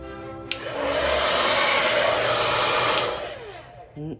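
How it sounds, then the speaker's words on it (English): A hair dryer blows steadily at close range with a broad, loud whoosh, cutting off after a few seconds with a brief click at the end. "it's time for the hairdryer"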